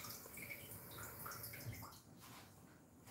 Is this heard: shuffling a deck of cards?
no